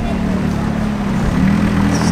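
A McLaren 650S supercar idles while easing into a garage, giving a steady, loud, close low rumble with no revving.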